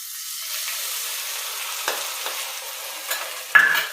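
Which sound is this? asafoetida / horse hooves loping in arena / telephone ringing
asafoetida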